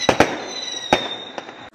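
Fireworks going off nearby, several sharp loud bursts in quick succession followed by a thin high whistling tail and one last fainter crack.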